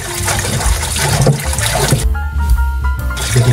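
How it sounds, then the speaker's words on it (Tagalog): Tap water runs and splashes steadily over cow skin as it is rinsed clean while cooking balbacua, a loud continuous gush with shifting trickles and no talk. "hugasan natin para matanggal-tanggal yung anggo"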